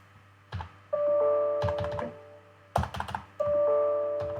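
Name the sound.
computer keyboard typing code in vim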